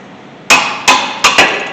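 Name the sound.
removing a brake caliper bracket bolt with a 17mm tool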